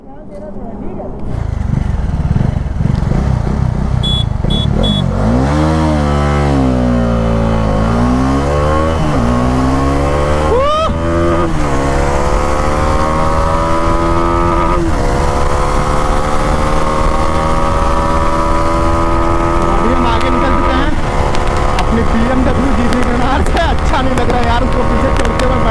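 A BMW G310R and a Dominar 400 race each other. Their engines scream loudly and continuously, repeatedly sweeping up through the revs with gear changes, and wind roar and a voice are mixed in.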